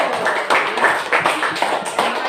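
Classroom applause for a student, a brief patter of clapping from a group of pupils at moderate loudness, running on steadily without a break.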